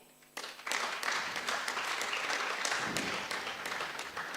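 An audience at a county procurement congress breaks into sustained applause for Dr. Lina Mpoke, a dense wash of many hands clapping that starts abruptly and continues steadily, moderately distant.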